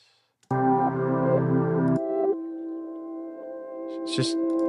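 A reversed sound plays: a sudden swelling tonal drone that holds steady, shifts to a thinner sustained hum, then ends with a brief breathy rush.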